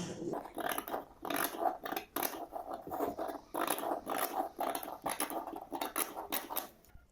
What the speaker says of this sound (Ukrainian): Тепер вирізаю матеріал тканину тільки по верхньому краю.